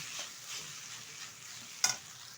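Vegetables for egg chow mein are being stir-fried in a pan, giving a soft, steady sizzle with light scraping stirs and a brief sharper clatter near the end.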